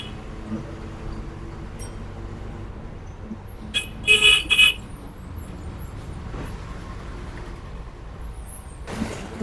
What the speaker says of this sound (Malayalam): ടൗണിലൊക്കെ ആയിട്ട് ഭയങ്കര ട്രാഫിക് കേട്ടോ.